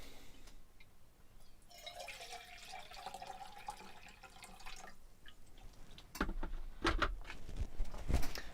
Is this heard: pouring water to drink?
yes